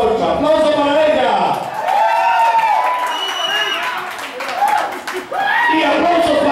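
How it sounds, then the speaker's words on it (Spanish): Audience on a Zitro Karaoke television show claps and cheers in a loud, steady burst, with a host's amplified voice talking over the applause throughout. "¡Aplausos para ella!"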